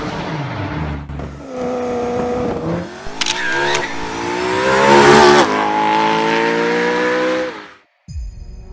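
A VW Scirocco engine revs up through rising pitch, roaring loud and near, holding at high revs before cutting off abruptly.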